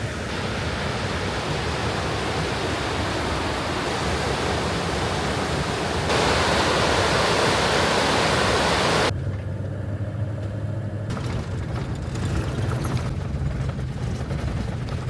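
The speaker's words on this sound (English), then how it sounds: "These are some amazing rapids here on the Deschutes River." Rapids at Sherar's Falls on the Deschutes River give a dense, steady roar of rushing water that fills the clip without a break, shifting in tone partway through as the position changes.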